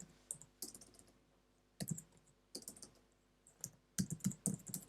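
Typing on a computer keyboard while entering a shell command in a terminal; clusters of close, crisp key clicks come in short bursts separated by brief pauses, with no talking.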